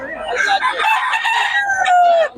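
A rooster crows loudly and close by, one long drawn-out cock-a-doodle-doo, in a backyard where chickens are sold.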